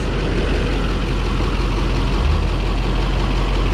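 A Duramax diesel truck engine idles nearby with a continuous low, heavy rumble and a steady clattering drone that holds constant the whole time, with no voices.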